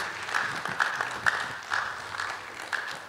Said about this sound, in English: Let's give him a round of applause as he mounts the stage.